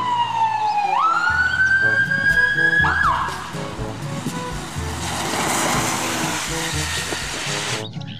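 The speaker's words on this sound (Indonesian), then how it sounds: "Yang ini ada mobil ambulans." A toy ambulance sounds its electronic siren, a loud rising wail that holds steady and then sweeps, followed by a buzzy motor-like whir and a fainter repeating tone, close to the listener with no talking.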